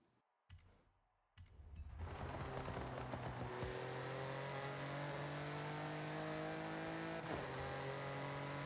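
A DeLorean in the Forza racing game starts up and revs, then settles into a steady, loud engine drone with rising harmonic whine as it drives, with a brief spike near the end and no talking over it.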